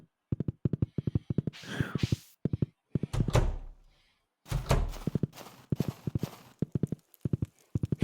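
Horse hooves clip-clop in the farming video game Stardew Valley, a steady run of crisp, close, rhythmic knocks broken by a few heavier thuds and scraping bursts.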